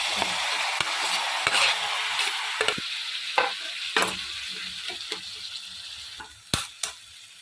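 Chopped tomatoes and amaranth leaves sizzle steadily in a hot pan for a vegetable curry, with a scattering of sharp spatula scrapes and taps from stirring; close and continuous, no talking.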